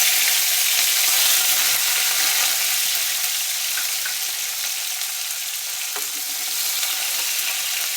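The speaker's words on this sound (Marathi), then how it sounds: "हिरव्या कांद्याला छान फोडणी द्यायचं." Chopped green onions fry in hot oil with cumin seeds. A loud, continuous close-up sizzle fills the whole stretch, with no talking.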